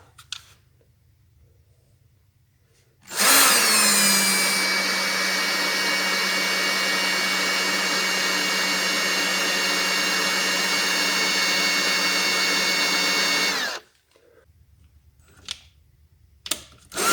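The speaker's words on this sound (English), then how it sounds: "Now for the main seal, what I like to do is put a sheet metal screw in there and pull that out that way." A power drill whirs steadily for about ten seconds, driving a sheet metal screw into the main transmission seal of a Harley five-speed gearbox, starting and stopping abruptly amid otherwise quiet surroundings.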